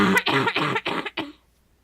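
Several harsh, close coughs in quick succession from one person during a Minecraft gaming session, loud and raspy with short gaps, ending abruptly into quiet.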